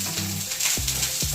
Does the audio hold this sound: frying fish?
yes